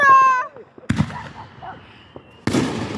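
A firework mortar shell launches with a sharp thump, then bursts in a loud, crackling explosion about a second and a half later, both close by. A voice shouts just before the launch.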